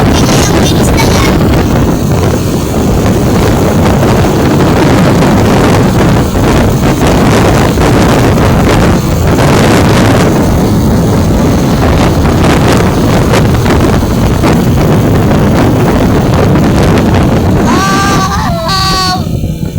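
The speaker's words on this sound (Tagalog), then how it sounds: "Ang lakas ng hangin!" Strong wind roars loud and constant against the microphone outdoors, heard from a moving vehicle on a road, with brief chirping tones near the end.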